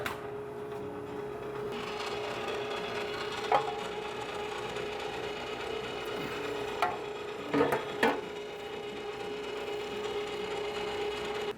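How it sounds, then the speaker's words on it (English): A meat grinder on its coarse plate runs chipotle beef sausage mixed with Oaxaca cheese, giving a steady mechanical whir throughout with a few brief knocks and squeaks near the middle, no talking. "let's get this going and see if we can run it through the grinder one more time"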